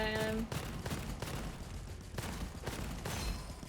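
Rapid video game gunfire with regular sharp shots fired in quick succession, fairly quiet and continuous, with no voices over it.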